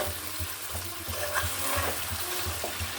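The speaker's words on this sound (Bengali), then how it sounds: "এখন আমি পানি অ্যাড করব মাংসটা আমার একদম কষানো হয়ে গেছে" Water poured into a pan of browned duck meat gives a steady, close, hissing sizzle that holds evenly throughout.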